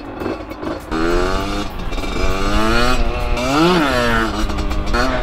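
A motorcycle engine revs up and down, rising and falling in pitch with a loud, close throaty roar and a brief quieter start.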